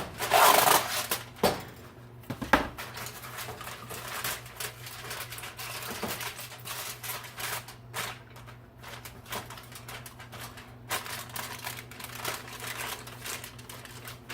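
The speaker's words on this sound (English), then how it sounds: "I just get some aluminum foil, and I cut it down to size." Aluminum foil crinkles and crumples close up in irregular bursts while being fitted onto a stove, with scattered sharp rustles and taps between quieter handling.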